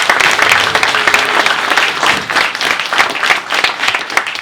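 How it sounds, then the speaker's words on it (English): A crowd at a graduation ceremony applauds loudly and continuously, many hands clapping in a dense, even patter. "Give them a big round of applause."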